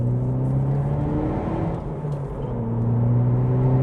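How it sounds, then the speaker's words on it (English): A 2012 Opel Astra OPC accelerates to overtake, heard from inside as a loud, steady engine drone whose pitch dips as it shifts, then climbs again under strong throttle. "Now let's overtake this RAV4."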